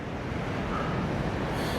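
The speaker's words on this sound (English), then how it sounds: "Big waves are pounding on Marsascala water polo" Big storm waves from Storm Harry pounding the shore at Marsascala, Malta, heard as a steady, dense wash of surf and wind noise, continuous and moderately loud throughout.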